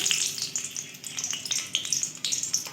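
Chopped onions frying in hot white oil in a wok, a steady close sizzle with crackling pops and bursts throughout, no voices.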